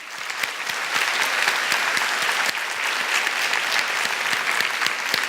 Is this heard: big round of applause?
yes